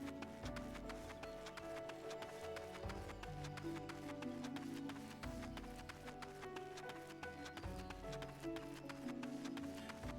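Horse hooves clip-clop at a steady canter in Final Fantasy XIV: A Realm Reborn, a rhythmic thudding gait under a continuous layer of game music, quiet overall with no speech.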